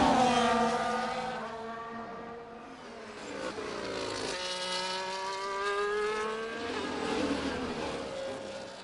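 F2 race cars in F1 24 at the Belgium circuit scream past in succession, high engine notes rising and falling with gear shifts and Doppler sweeps, loud and sustained.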